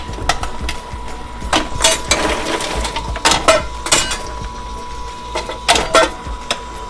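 A popcorn machine's stirring motor churns inside the kettle, with a steady mechanical hum under irregular rattling clatters and clicks of kernels and metal parts.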